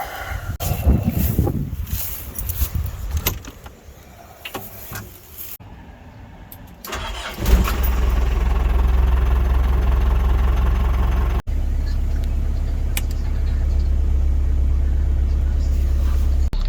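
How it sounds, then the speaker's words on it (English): A car engine starts up partway through, then settles into a steady, close idle rumble that carries on to the end, with softer mixed outdoor noise and some movement beforehand. "I'm going to have to start the engine"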